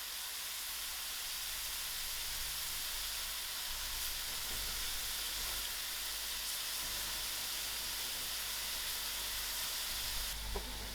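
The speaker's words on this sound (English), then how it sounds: "I'm going to add in my soya mince first so we can get a beautiful color with all my masalas." Soya mince fries with masalas in a pan, producing a steady, close, even sizzle and hiss that carries on without a break for the whole stretch, with no voices.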